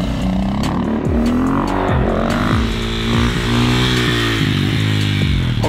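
Supermoto motorcycle engine roars loud and close, revving continuously with rising and falling pitch sweeps as the bike is held up on a wheelie, a sustained buzzing note throughout.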